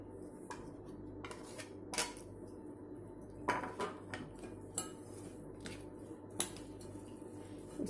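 A spoon mixes flour batter into cooked Maggi noodles in a metal bowl, making soft, wet squelching under a quiet bed, with a handful of sharp clinks and taps against the rim at irregular moments.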